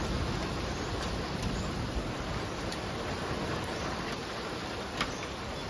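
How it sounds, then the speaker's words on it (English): Steady, dense hiss of rain falling without pause, with a faint patter and an occasional soft tap, no voices. "Here comes the rain."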